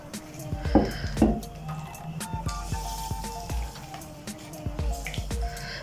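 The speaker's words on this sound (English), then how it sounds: "I have put all the chopped onion into it. Now I'm going to squeeze it like that." Wet dripping and trickling as water is squeezed from chopped onions in a cloth, soft squishing pressure, several splashy bursts early on, close up and moderately quiet.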